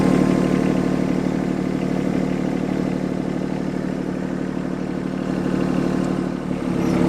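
A tractor engine runs steadily at close range during mowing and spraying on a rural property, a constant low rumble with clattering and no voices.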